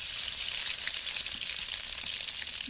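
Garlic frying in mustard oil sizzles as an even, hissing crackle, moderately quiet and steady throughout, with no voices.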